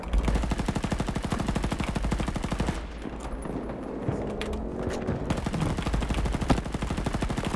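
Automatic gunfire from the video game Battlefield 2042 rattles in fast, loud bursts, pausing briefly mid-way for scattered shots before the rapid firing resumes at full intensity.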